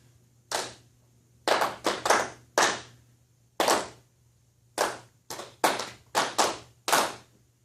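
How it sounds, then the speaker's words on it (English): Hands clap out a syncopated rhythm, sharp claps in short irregular groups with gaps between phrases, clear and close with no talking. "I just want you to clap the words to it"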